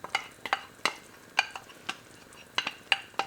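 Home-canned homegrown tomatoes deglazing a hot pot with a defrosted curry base, a soft sizzle broken by sharp clinks and scrapes of a utensil stirring against the pot, close up and intermittent.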